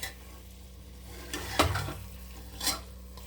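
Chicken with masala in a pan, stirred and scraped with a couple of louder spoon strokes over a low, steady sizzle. The cooking is close and heard alone.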